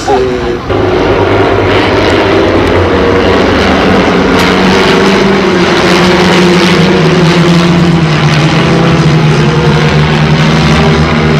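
A Piper PA-28 propeller plane in Warrior or Cadet version droning loudly at an air show in Cambrai-Niergnies, a steady engine tone with shifting pitch held throughout, close and sustained.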